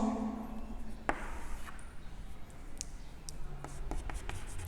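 Marker or chalk writing on a board during a physics lesson on electric potential, a soft continuous scratching with a few sharp taps, close and fairly quiet, with faint room noise and no talk.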